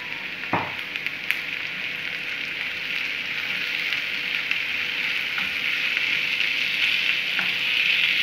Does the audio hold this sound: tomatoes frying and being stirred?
yes